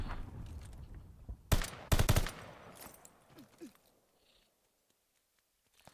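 Submachine gun fire in a ranked Search and Destroy match of Call of Duty Vanguard: two loud, sharp bursts of rapid shots, then scattered quieter game sounds fading toward near silence.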